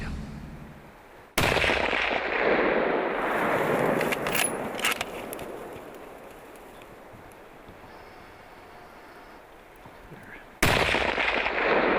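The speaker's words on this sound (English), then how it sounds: "Nice shot, Steve." A single rifle shot rings out outdoors during a black bear hunt in British Columbia, a sudden loud blast followed by a long, decaying rumble. A second abrupt burst of sound comes near the end.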